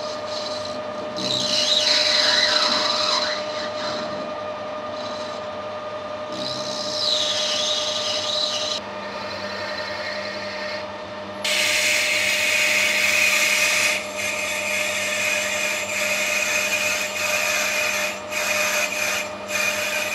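A lathe's steady mechanical whine runs throughout with rising and falling squeals, followed by a harsher grinding hiss as a 12.5 mm drill slowly cuts into a brass gland nut.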